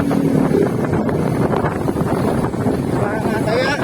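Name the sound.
motorcycle riding on a road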